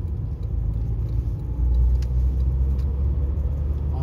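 A 2002 Nissan Micra K11 with a 1-litre 60 hp multi-valve engine accelerates, a steady low rumble that swells slightly partway through, with no talk.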